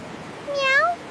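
A single short rising-falling meow from a cat, clear and close, voiced by a person imitating the cat in a children's beach story.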